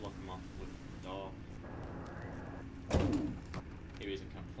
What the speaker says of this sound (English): Block him off with the door.